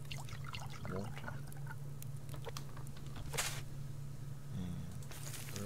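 Water poured over cotton and onion crops in the survival game Subsistence, faint splashing and trickling with a few brief bursts over a low steady hum, no talk.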